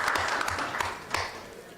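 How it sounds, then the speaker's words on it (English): Applause from the audience at a city council meeting, a moderate, fairly quiet patter of clapping heard from some distance, with a few louder single claps poking through before it starts to thin out. "Let's give him a hand of applause."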